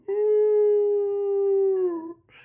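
Human voice imitating a dog's loud, drawn-out moan, a single sustained howling tone lasting about two seconds that sags in pitch at the end, close and alone.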